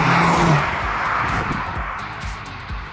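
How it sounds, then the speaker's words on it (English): A Mercedes C43 AMG accelerating, its exhaust giving a loud, deep rumble that eases slightly as it pulls away, with a few sharp crackles near the end. "hear the rumble from the AMG exhaust and the car will go zip zap zoom"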